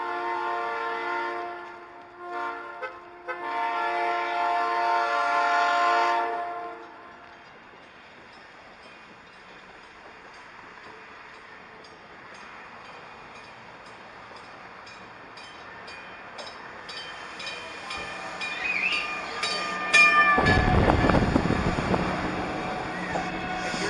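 Train at NICTD Miller station, a commuter rail platform: a loud horn-like harmonic blast at the start, then a steady low rumble of the train passing, rising to a louder rushing, clanking roar near the end.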